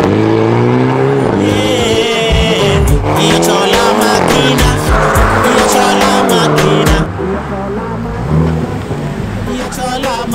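Hyundai i30N heard from outside, loud engine revving with harmonic sweeps rising and falling, sharp tire squeals and bursts, continuous over about ten seconds.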